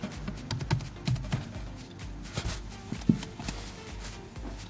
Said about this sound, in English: type terminal